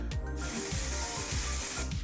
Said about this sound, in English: he does finish with the one size setting spray